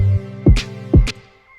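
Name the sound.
filterless sweep sound effect with delay in Ableton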